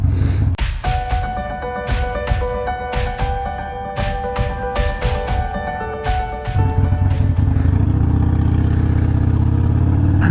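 A motorcycle on a test ride with a progressive monoshock cartridge suspension, engine droning steadily under wind with repeated sharp clicks and rattles, then a louder low rumble as the ride continues, close and with no talk.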